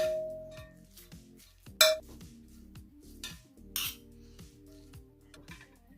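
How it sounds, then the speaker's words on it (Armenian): Utensils stir a holiday meat salad dressed with vinegar and spices in a bowl, giving soft scraping and a few bright clinks against the dish, two louder knocks standing out over steady low rustling. "այս ամբողջ զանգվածը լավ խառնում ենք"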